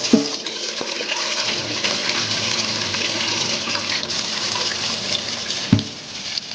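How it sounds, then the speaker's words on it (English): Cold tap water gushes and splashes steadily into a sink or colander over drained pasta, close and loud, with a brief knock near the end. "You drain it out and run cold tap water through it immediately"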